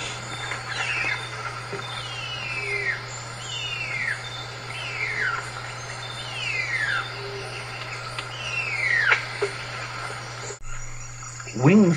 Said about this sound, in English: Wing spreads and this extraordinary, scarcely bird-like call are just the beginning of things.